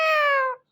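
A parrot mimics a cat's meow in a single clear, close, tonal call lasting about half a second, with a slightly falling pitch and no talking.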